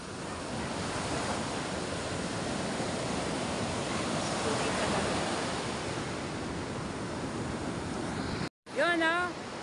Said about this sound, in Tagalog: Masungit yata ang dagat.